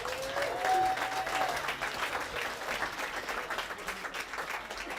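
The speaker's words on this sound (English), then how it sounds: "so give a round of applause to Sarah and Jan" A studio audience at a comedy news show applauds, a dense, steady patter of clapping that holds for several seconds with no talking.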